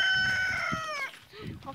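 A farmyard rooster crows once near a village threshing area at sunset, a loud drawn-out harmonic call lasting about a second, followed by quieter low murmurs and background noise.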